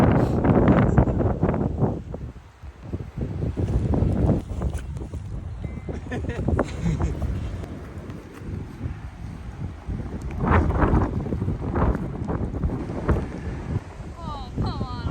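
Gusty wind buffets the microphone on an open disc golf course, with a rumbling roar that rises and falls in bursts while people talk now and then.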